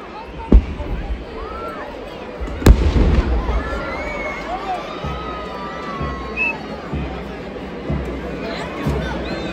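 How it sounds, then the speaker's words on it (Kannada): Fireworks and ceremonial cannon fire at the Mysuru Dasara celebration, with two sharp booming bursts over a constant crowd din, with whistling and crackling in the background, heard from within the outdoor crowd. "ಇಲ್ಲಿ ಸಿಡಿಮದ್ದು ಗುಂಡ ಹಾರಿಸ್ತಾ ಇದ್ರು ಯಪ್ಪ ಭಯಂಕರವಾಗಿತ್ತು"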